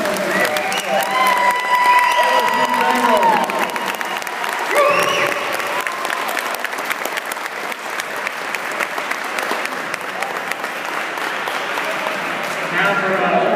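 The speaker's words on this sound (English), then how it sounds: "Let's give a round of applause to the" A stadium audience gives a long, steady round of applause for the 2012 LSU-Eunice national championship team at their ring presentation, the clapping dense and sustained with a brief spoken word early on.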